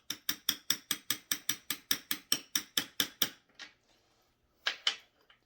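Needle nose pliers tapping on a part of a Remington during clutch and oil pump repair: about fifteen sharp, evenly spaced metallic taps in quick succession, close and clear, then a pause and one more tap.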